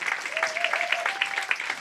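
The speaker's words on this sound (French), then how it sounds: "Est-ce qu'on peut l'applaudir?" Church audience applauding, a lively patter of many hands clapping at moderate volume, with a faint sustained tone running beneath the clapping.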